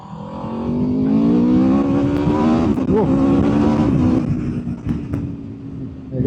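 An Aprilia RSV4 1100 Factory motorcycle engine holds a high, steady whine at speed, the pitch climbing slightly, with strong wind rush, loud and close throughout.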